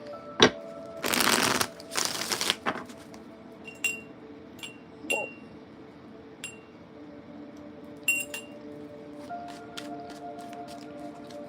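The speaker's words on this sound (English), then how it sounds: "Let me get a good shuffle real quick." Tarot cards are shuffled by hand in a quiet room, with a few quick riffling bursts near the start followed by scattered soft taps, clicks and light clinks at close range.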